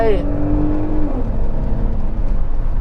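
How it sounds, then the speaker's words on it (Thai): Porsche Cayenne V6 engine revving up then settling back, a rising whine over a loud, steady rumble close by. "เราลองดูตาเร่งดู โอ้เสียงเครื่องหวานจับใจ"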